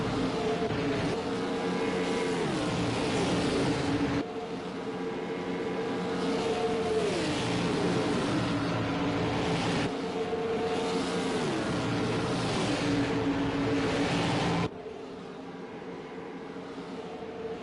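Race cars in sim racing accelerating away, a loud, continuous high-pitched engine roar with rising pitch sweeps as gears change, no talk over it.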